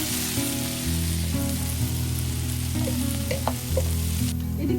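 Fenugreek leaves fry in a pan with a steady, loud sizzle and a few stirring clinks near the end, with no talk.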